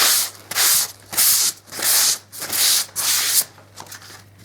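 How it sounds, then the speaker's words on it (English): Repeated strokes of sandpaper on a painted skirting board, six rhythmic rasping passes about half a second each, close and fairly loud with short pauses between them. "And I'm going to give that a quick sand over."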